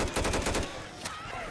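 A helicopter's gun fires in Left 4 Dead 2, a rapid, loud burst of automatic shots lasting about half a second, followed by fainter scattered reports and a single later crack.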